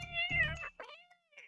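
Cats yowl and meow in a tense, drawn-out squabble, several rising and falling cries close by with no talking over them.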